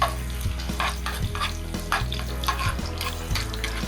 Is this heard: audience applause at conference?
no